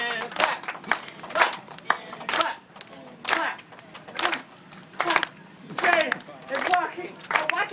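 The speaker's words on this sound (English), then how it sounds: "we need a clap" Audience clapping in time at a child's stilt-walking session, sharp claps in bursts and short rhythmic groups with pauses between, fairly close.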